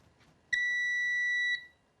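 Seaward PrimeTest 250 PAT tester giving a single clear, loud electronic beep lasting about a second when switched on, with a quiet room around it.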